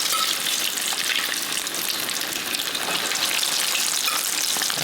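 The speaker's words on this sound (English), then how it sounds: "Adding it to the oil." A salmon croquette frying in hot oil gives a dense, even, loud hiss that holds steady throughout, close up and without speech.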